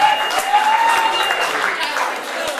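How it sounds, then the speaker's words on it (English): Audience applause at a school-of-rock senior recognition event: a full, even wash of clapping from a crowd, steady throughout with a faint voice or two underneath. "Round of applause."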